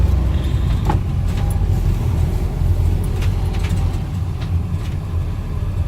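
Van driving through the centre of Castleton in the Mam Tor area, a steady close engine and road rumble from inside the cab with no breaks in the noise and no talking.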